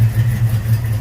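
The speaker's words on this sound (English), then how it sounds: "see how I'm idling better, starts up like a champ" A Ford Mustang 5.0 V8 from the 1989-93 era idles steadily, a loud, close, low throbbing rumble with a regular pulsing rhythm and no voices.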